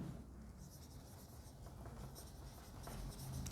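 Pen scratching steadily across paper while an accounting entry is handwritten, a continuous close scraping texture with faint background noise throughout.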